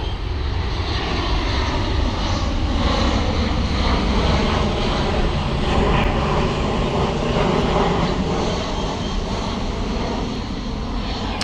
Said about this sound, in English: Guess what? Another plane. Wow, look at that.